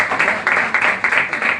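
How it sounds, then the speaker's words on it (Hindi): Enthusiastic applause from a church congregation, dense steady clapping that swells and pulses for a short burst, loud and close with no talk over it. "जोरदार तालियां इनके लिए।"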